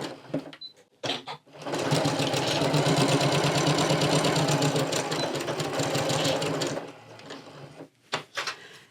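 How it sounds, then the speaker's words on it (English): A sewing machine runs steadily for about five seconds, stitching a quarter-inch seam that joins two fabric pieces for a scrunchie lanyard, with brief handling clicks before and after the run. "Just take a few stitches and then 1/4 inch seam across here. And sew these 2 together."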